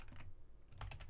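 Quick, soft keystrokes on a computer keyboard, two short bursts of typing as an IP address is entered, close and quiet.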